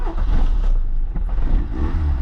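A Peugeot 205 petrol engine cranks and catches on the first try, then settles into a steady low rumbling idle, close and loud with no talk over it.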